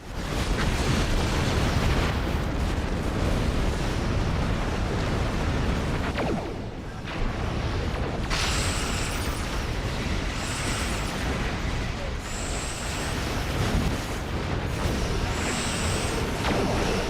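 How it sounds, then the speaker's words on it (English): Starship cannons fire nonstop in a Star Trek Online battle at a starbase, a dense, loud barrage of rumbling explosions and bursts that briefly dips before surging again, with bright zapping shots layered on top. "When you saw all those cannons going off"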